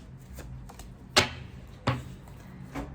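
Tarot cards being handled and shuffled, heard as a few soft, sharp snaps and slaps spaced a second or so apart over a quiet background, with no talk.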